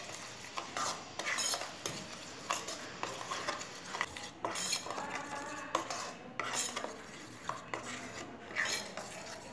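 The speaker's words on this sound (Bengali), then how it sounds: "এবার এটাকে ভালো মতো নাড়াচাড়া করে মিশিয়ে নেব।" Spice paste being mixed with mustard oil in a pan, quiet repeated scraping and clinking of a metal spoon against the cookware with a faint sizzle beneath, irregular strokes close by and no one talking.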